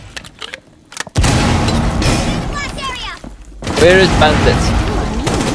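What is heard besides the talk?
pistol gunfire in a video game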